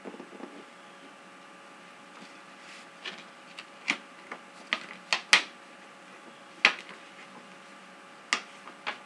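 Hardback books handled up close in a quiet room: irregular, crisp taps, page flicks and cover knocks, some sharp and prominent, scattered with pauses between them.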